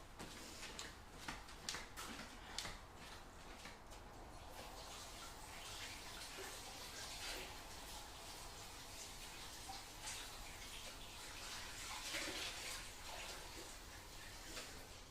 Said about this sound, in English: let me wash my cloth